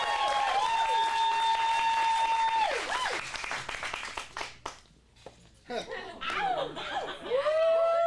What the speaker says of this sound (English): let's give a big round of applause for our final sketch, Carney's at a Shoe Store